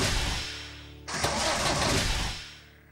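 A tractor engine cranks and sputters, surging briefly into a rough churning noise before dying away again without catching.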